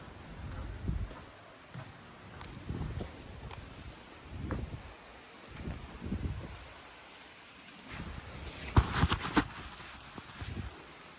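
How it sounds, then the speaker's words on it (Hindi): Strong, cold wind blowing outdoors in Uttarakhand's hills, heard as low rumbling gusts that swell and fade in irregular bursts over a faint hiss, with no talking. "बाहर चल रही बहुत भयंकर हवा, दिखाता हूँ। ये देखो, सुनना आवाज़।"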